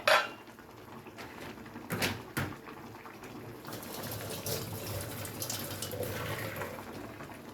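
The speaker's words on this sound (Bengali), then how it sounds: "এবারে লাউ পাতাটা জল ঝরাতে দেব।" Boiled bottle gourd leaves drain in a kitchen, water trickling and dripping softly, with a few sharp metallic clanks of a pot early on, all faint and without talk.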